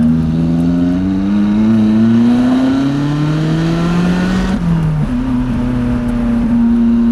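A sports car is driven hard on a winding mountain road with hairpins, its engine note climbing and falling steadily, then dropping sharply under hard braking into a corner before rising again, loud and close throughout.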